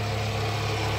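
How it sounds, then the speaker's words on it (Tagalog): A Toyota Previa engine, said to share its motor with the RAV4, idles steadily after its throttle actuator was cleaned, giving a continuous low hum with mechanical hiss and no talk. "Pareho po ng pang RAV4 ang makina nito."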